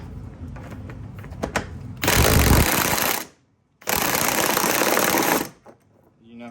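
A power tool fitted with a swivel socket drives a bolt while a lift kit is installed, buzzing loudly in two long bursts with a short gap between them, after a few softer clicks and knocks.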